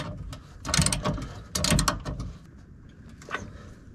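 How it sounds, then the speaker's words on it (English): A ratchet tightens the bolt on a fuel tank strap under a Chevy truck or SUV, two bursts of rapid close clicking separated by pauses, then fainter scattered ticks. "Now I'll get the strap in place and reinstall the bolt."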